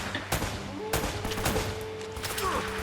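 Video game gunfire in Uncharted: several sharp, loud shots crack out at irregular intervals over a steady background hum, with faint voice sounds in the mix.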